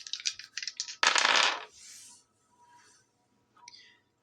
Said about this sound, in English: Let me roll the dice on that real quick to see if we can find out about how long ago it'd been.